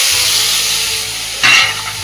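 Onion, potato and taro fry in oil in a pan with a steady close hiss and sizzle, and one brief louder burst partway through.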